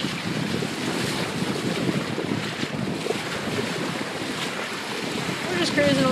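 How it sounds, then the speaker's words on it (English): Wind roars over a microphone on the bow of a cruising fishing boat off Panama City Beach, Florida, with steady water rush and splashing at the bow, continuous and fairly loud throughout. "I'm on the bow of the boat, hanging on for dear sweet life."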